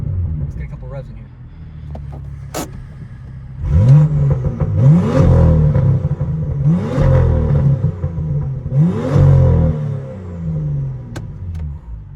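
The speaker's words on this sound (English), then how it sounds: "Let's get a couple revs in here." A BMW F87 M2 with a Valvetronic exhaust revs several times in quick succession, each blip rising and falling loud and close over a steady idle rumble, with no one speaking.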